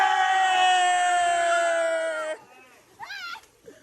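A crowd of people shouts and cheers together in one loud burst of many voices that stops abruptly, followed by a few scattered individual yells.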